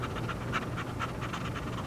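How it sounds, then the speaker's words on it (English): A dog pants in the horror video game Harvester, with a steady rhythm of quick breaths close up and continuous over a low noisy bed. "That is definitely a dog."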